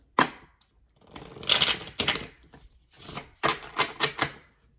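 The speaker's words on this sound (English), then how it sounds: "So I am going to shuffle." Tarot cards being shuffled in several quick riffling bursts, crisp papery flutters close by with short pauses between them, no talking.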